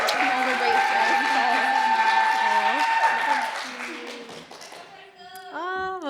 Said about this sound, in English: give a round of applause for Frankie sharing